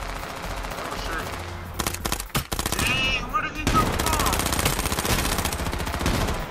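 Rapid automatic gunfire in the H1Z1 battle royale game, loud bursts of shots rattling close by, with a brief pause midway and then a long continuous volley, players talking over it.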